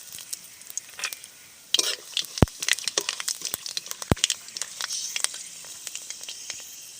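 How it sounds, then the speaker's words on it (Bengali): Bay leaves and five-spice seeds crackle and sizzle in hot oil, with sharp scattered pops and spits over a steady frying hiss, close and moderately loud. "বিট আর গাজরটা ভেজে নেব, তার জন্য ফোড়নে দিয়ে দিচ্ছি 2টো তেজপাতা"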